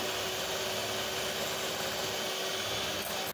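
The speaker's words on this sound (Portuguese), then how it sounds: "Agora com a batedeira a bater lentamente, vou juntar este preparado do café e das gelatinas." An electric mixer runs at low speed, mixing a coffee and gelatin blend into a dessert, giving a steady, close, continuous whirring drone that stops abruptly at the end.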